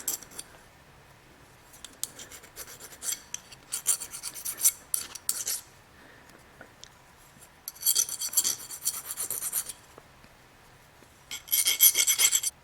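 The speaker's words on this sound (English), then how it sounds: "Filed down any rough edges that I created when I took it out with the chisel." A hand file rasps rough edges off a steel pulley shaft key from a Toro 521 snowblower auger, in close, crisp back-and-forth strokes grouped into separate bursts with short quiet pauses between them.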